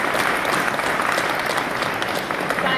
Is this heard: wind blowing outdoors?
no